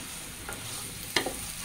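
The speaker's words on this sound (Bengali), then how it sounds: "এই যে দেখে আমি চিংড়ি মাছটা হচ্ছে একটু ভেজে নিচ্ছি হালকা করে" Shrimp lightly frying in a pan: a continuous soft sizzle with a brief spatula scrape or tap, close and low in level.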